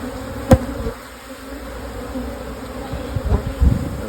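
Honey bees from a beehive opened during single brood chamber management, their steady close buzzing underlying a couple of sharp knocks and handling clatters.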